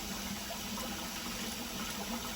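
Water is poured for cooking pasta, giving a soft, steady running and filling sound, faint and continuous.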